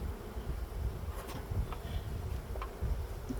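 Bees in a thin wooden breeding box during a hive removal, giving a steady close buzzing drone throughout with a few faint knocks and clicks and no talking.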